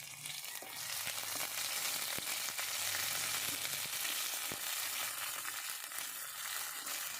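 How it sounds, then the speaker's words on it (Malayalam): Ginger, green chilli and curry leaves fry in hot oil for a masala dosa potato filling while being stirred: a steady, close, dense sizzle with occasional sharp scraping clicks throughout, no voices. "അപ്പം കുറച്ച് കറിവേപ്പിൻ്റെ ഇല ഇട്ട് ഇതൊന്ന് നന്നായിട്ട് ഇളക്കി കൊടുക്കുക"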